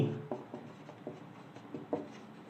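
Chalk or marker writing a statement on a classroom board during a chemistry lesson, a series of soft scratchy strokes in uneven rhythm, close and fairly quiet, with no talk.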